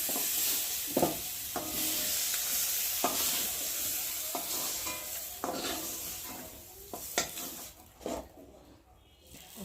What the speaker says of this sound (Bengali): তো দেখো পটলগুলো ভাজা ভাজা হয়ে গেছে